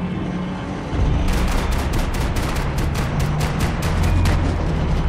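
Gunfire in the video game Max Payne 3: after a low rumbling start, a rapid string of sharp, loud shots rattles out in quick succession over a booming low background, with no talking.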